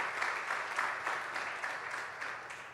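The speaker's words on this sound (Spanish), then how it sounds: "Dale un aplauso al Señor." Church congregation applauding during a service, a steady, full round of clapping that fades slightly toward the end, with no talk over it.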